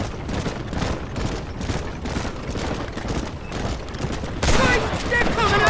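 Rapid gunfire from the video game Red Dead Redemption, a dense stream of overlapping shots that swells louder near the end, mixed with game character voices.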